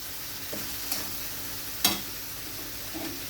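Onion paste fries quietly in a pan, a soft low sizzle with a few scraping stirs and clinks of a spoon against the metal, close by.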